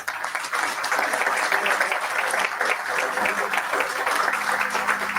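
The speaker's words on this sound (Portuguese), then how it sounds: "a quem peço uma salva de palmas" An audience at a local election debate in Sesimbra, Portugal, gives a round of applause, dense and steady throughout, with no voices over it.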